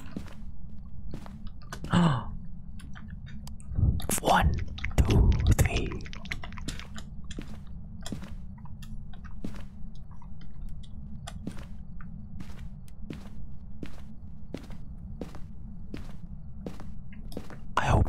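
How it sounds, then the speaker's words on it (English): Close-miked ASMR-style chewing of a piece of chocolate, with wet mouth clicks, smacks and breathy sighs scattered over a low steady background hum. "Chew on this piece of chocolate."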